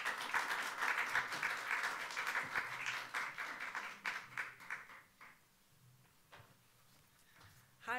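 An audience applauds to welcome a speaker to the stage at a Berklee voice instruction event: dense, steady clapping that gradually thins and fades into scattered claps near the end.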